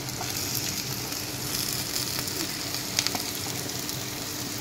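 Chayote squash frying with softened onions in a hot pan, a steady bright sizzle throughout with a few louder crackles and pops, close and fairly quiet, with no talking.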